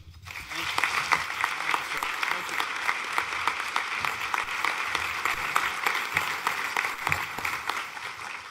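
Audience applause at a Forum Club luncheon welcoming historian Jon Meacham, sustained clapping from a large room with sharp individual claps standing out, steady throughout and fairly distant.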